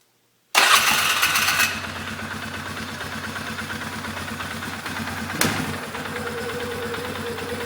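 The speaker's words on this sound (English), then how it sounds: "Start it up here." A Polaris Sportsman 500 ATV with a modified air intake cranks and fires abruptly, revs briefly, then settles into a steady close idle with a single short throttle blip midway.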